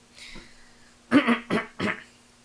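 A person coughs several times close up, with one faint cough first and then three sharp coughs in quick succession. A low steady hum sits underneath.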